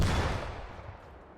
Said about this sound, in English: I think Cody just shot a rocket. Yeah, because he's got a Carl.